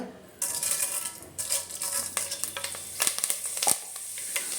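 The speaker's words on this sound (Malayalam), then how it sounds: "ചെറിയ ടീസ്പൂൺ അളവിൽ ഉലുവ ഇട്ട് കൊടുക്കുന്നുണ്ട്." Fenugreek seeds sizzle and crackle in hot oil in a pan while lemon pickle is being made. The frying is close, with sharp spattering pops and light stirring scrapes, and no one speaks.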